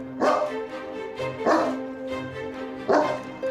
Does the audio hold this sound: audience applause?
no